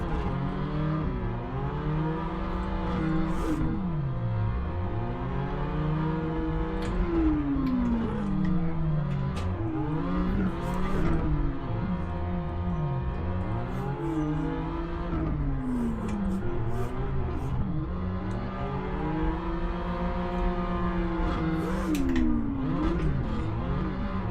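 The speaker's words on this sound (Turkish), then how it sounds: "egzoz sesiyle böyle bir anda ara gazı vererek değiştiriyorsun ya vitesi" A modified BMW F30 320i drifts with its exhaust revving hard, engine pitch sweeping up and down repeatedly through gear changes, loud and sustained with occasional pops.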